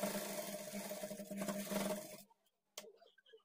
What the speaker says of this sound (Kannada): ಈಗ ಹುಕ್ಸ್ ಪಟ್ಟಿನ ಇನ್ಸೈಡ್ಗೆ ಈ ಥರ ಫೋಲ್ಡ್ ಮಾಡಿಕೊಂಡು ಎಡ್ಜ್ಗೆ ಸ್ಟಿಚ್ ಮಾಡ್ಕೊಳ್ಬೇಕು